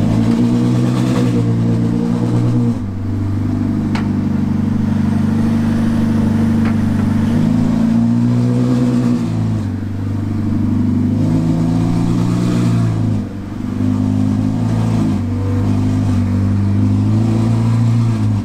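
Ferrari 488 Challenge EVO race car engine, a loud, close, rough idle with repeated rises in revs and brief dips, continuous throughout with no talk.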